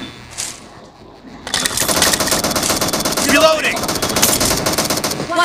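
Rapid automatic gunfire bursts in the mobile battle royale game PUBG Mobile, loud and dense after a brief quieter start, with a player talking excitedly over the shooting.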